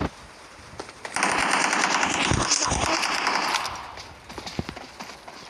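Rapid automatic gunfire in a shooting video game, a dense loud burst of repeated shots lasting a few seconds, then tapering into sparser single shots and faint game noise.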